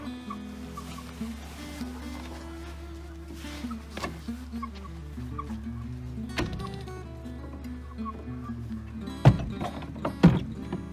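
A black rooster named Lincoln, kept in a barn, clucks intermittently at close range while other fowl add scattered calls and a low steady hum runs underneath, with a couple of sharp knocks near the end.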